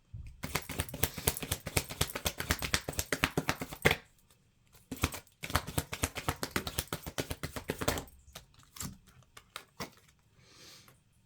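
Tarot cards are shuffled in three bursts of rapid, crisp riffling clicks, each lasting a few seconds and separated by short pauses, close to the microphone and without any talking.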